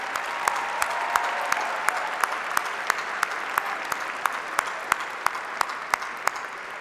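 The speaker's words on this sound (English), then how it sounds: "Let's give a round of applause for our faculty and staff" University commencement audience applauding faculty and staff, a dense, even roar of clapping in a large hall with sharper individual claps popping out at a regular, near-rhythmic pace, fairly distant and moderate in level.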